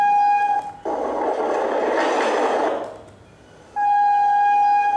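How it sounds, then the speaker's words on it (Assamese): A train sound effect used as street ambience: a loud, steady horn-like tone is heard at the start, then a rushing rumble of the passing train fades out, and the horn tone returns strongly at the end. "ট্ৰেইনৰ চাউণ্ড এটা"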